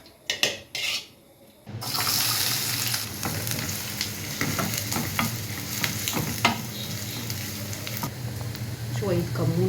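Steady frying sizzle of ghee in a pan after a few brief clatters, with utensil scrapes and stirring sounds over the continuous hiss.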